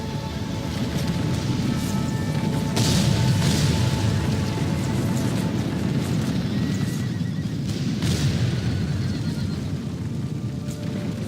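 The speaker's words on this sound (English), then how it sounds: "They are preparing to throw some grenades, and the grenades start falling among the cavalry." Grenades burst among cavalry in a Thirty Years' War battle game during the siege of Weimar, dull booms rising from a constant, loud roar of battle noise with horses mixed in.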